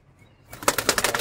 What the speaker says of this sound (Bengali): এটা নর, মেল কবুতর।